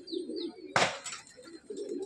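Madrasi pigeons coo in a rooftop loft at a house in Khardah, low throaty phrases near and far, broken by a sudden loud burst of wing flapping before the cooing resumes.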